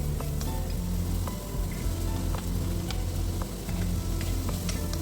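Beans sauté in a pan for chicken soup, a dense, loud, constant sizzle with scattered crackles and light stirring movements, no talking heard.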